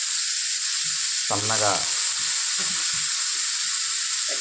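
Raw, unboiled cut cabbage tipped into a hot pan for a cabbage and potato fry gives a steady, close, bright sizzle that holds throughout, with a brief spoken word near the middle.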